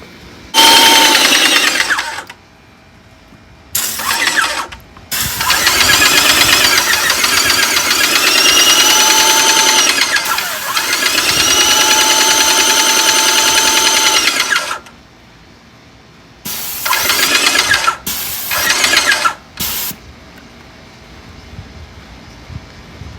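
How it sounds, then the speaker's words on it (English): An airless paint sprayer motor switches on and off in bursts while it fills a black hose with house paint, giving a loud, steady mechanical whine and hum between short pauses. "we should be able to turn on the machine, and it will fill the hose, the black hose, with the paint now"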